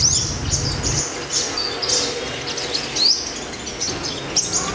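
A pet sunbird, a yellow-bellied five-colour variety, gives bright repeated chirps and short twittering calls up close, loud and intermittent over a steady background hum.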